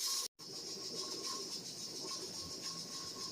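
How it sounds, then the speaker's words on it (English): A pressure canner processing beans on the stove gives off a steady, fairly quiet hiss of escaping steam as its weight gently rocks, a constant airy wash with no talk. "It's on a real gentle rock, and it's not losing a lot of steam."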